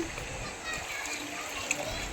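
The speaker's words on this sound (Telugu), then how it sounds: "ఈరోజు వేద్దాం వాటర్" Water splashing onto onion plants in a home garden bed, a steady spattering wash running through the whole short stretch, close by, with a voice speaking over it.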